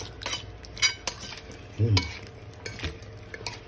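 Raw fish kinilaw stirred by hand with vinegar in a bowl, close-up intermittent clinks and scrapes of a utensil against the dish in an irregular rhythm.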